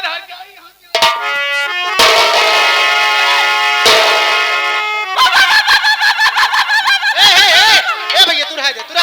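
Fowl-like clucking and honking calls in a staged nautanki folk play, loud and close, in repeated bursts with pauses between, likely voiced by a performer imitating chickens.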